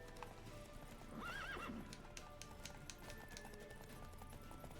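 A horse in The Witcher 3 runs with a brisk clip-clop of hooves and gives a clear whinny partway through, set against a steady bed of game sound.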